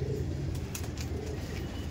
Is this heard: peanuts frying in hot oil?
no